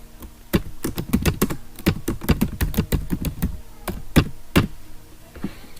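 Rapid typing on a computer keyboard while a company name is entered, irregular clattering keystrokes in quick bursts, close and fairly loud, with no talking.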